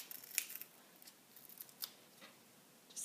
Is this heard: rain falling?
no